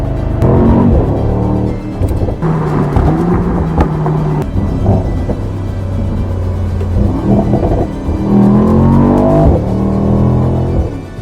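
A deep Mercedes-AMG V8 engine in a 2023 SL 63 accelerates hard, its roar rising in pitch and dropping at each gear shift, loud and close throughout with no voices.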